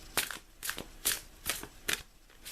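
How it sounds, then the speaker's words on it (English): A deck of tarot cards is riffle-shuffled in five or six quick, crisp bursts, each a short papery flutter followed by a brief pause, close up and with no voices. "I'm taking the deck in hand and I'm shuffling the cards"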